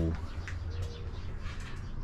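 Soft pigeon coos sound over a steady low rumble, with faint chirps and background chatter mixed in.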